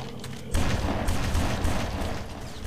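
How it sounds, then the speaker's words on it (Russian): Gunfire in the game BloodRayne, a dense continuous burst of rapid shots and rumbling impacts that starts abruptly and keeps going at steady, loud volume. "Нет, они стреляют, да?"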